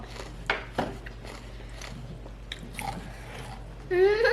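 Crisp biting and crunching while eating a Thai seafood papaya salad with squid and shrimp, a few sharp crunches close up among soft chewing, with a voice speaking briefly near the end.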